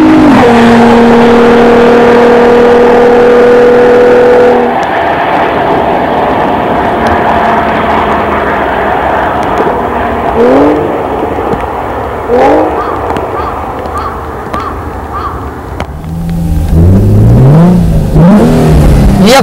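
A factory-tuned performance car engine revving and accelerating on a wet test track, a loud roaring drone that rises and falls through gear changes, with a voice talking over parts of it.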